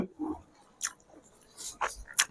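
Someone eats creamy butter chicken gravy, producing a few close, soft chewing and wet mouth sounds with short pauses between bites.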